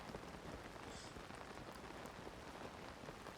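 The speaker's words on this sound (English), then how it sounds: "Oh lord, it's raining." Rain falls steadily in a Zelda video game while korok seeds are being collected. A dense, even patter of drops on surfaces continues throughout at moderate loudness, with no talking.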